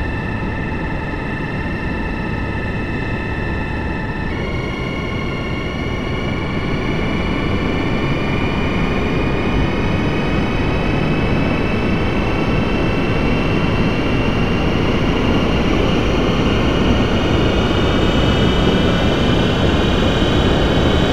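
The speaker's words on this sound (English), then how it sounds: "We know the engines are running." Grumman E-2 Hawkeye turboprop engines run steadily in the FSX flight simulator, a loud continuous drone with tonal whine that shifts slightly early on and holds throughout, with no talk.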